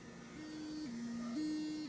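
A Fairywill electric toothbrush in massage mode gives a steady, faint buzzing hum whose pitch steps down and back up in a pulsing pattern, heard alone and close.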